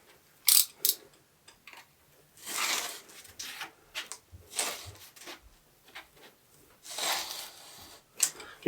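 Insulation board is cut by hand, giving sharp irregular crackling snaps and short rasping bursts up close, separated by quiet gaps.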